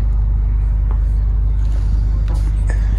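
A 2003 GMC C7500 service mechanics truck drives nearby with a deep, steady engine rumble that carries on throughout, plus a few faint clunks and rattles over it.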